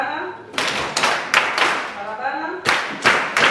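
An audience at a teachers' annual conference claps along in short bursts, loud rhythmic claps starting and stopping on cue, with voices calling out between them.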